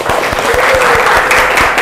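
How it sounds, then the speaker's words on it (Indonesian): A classroom of students applauds for the class, steady dense clapping filling the space with a few sharper claps standing out, loud and continuous throughout. "Tepuk tangan dulu Nak buat kelas ini."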